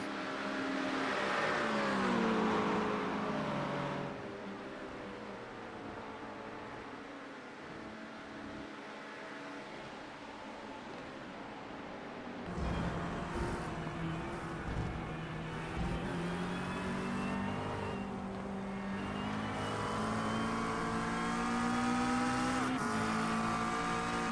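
Racing cars circulate at the Spa circuit during a 6-hour event, engines revving and droning past at varying distances, with gear changes and rising pitches as a McLaren overtakes, steady and loud throughout, no talking.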